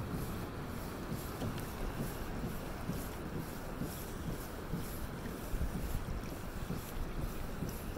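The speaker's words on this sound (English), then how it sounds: "I'm filming over my shoulder as I'm paddling back." A kayak paddles back near Lamplugh Glacier in Glacier Bay, Alaska, with faint rhythmic water strokes and splashes under steady wind noise on the microphone, all quiet and continuous.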